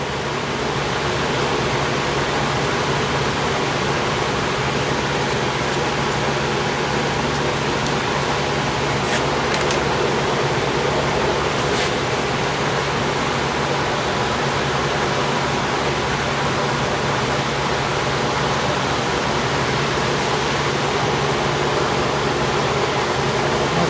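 A garden hose sprays water steadily in a garden bed of goji berry plants, a constant broadband hiss that stays loud and even from start to finish, with no one talking.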